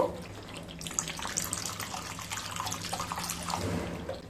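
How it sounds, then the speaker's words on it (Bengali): A small splash of water goes into a pan of katla fish curry with fried spices, a faint, brief trickle and light sloshing in a quiet kitchen. "এবার জল দিয়ে দেব, খুবই সামান্য জল দেব।"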